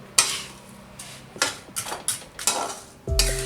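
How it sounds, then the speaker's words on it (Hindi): Laddu mixture for gond or atta laddoos is stirred in a pan, giving a series of distinct metallic scrapes and knocks from a spoon at an irregular rhythm, close and fairly loud. "अच्छी तरह से सब चीज को हम मिक्स कर देंगे"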